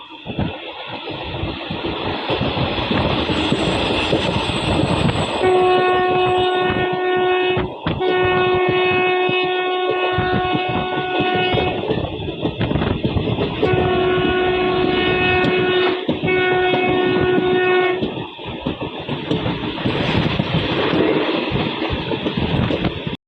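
A passenger train on the Rajkot–Morbi line rattles along loudly with rhythmic clatter, while a long two-toned horn blares twice, each blast lasting several seconds.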